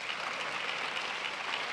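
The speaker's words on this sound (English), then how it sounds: "Please clap for us." Conference audience applauding at a Bank of Industry International Women's Day conference, a short steady burst of many hands clapping in a large room, heard alone.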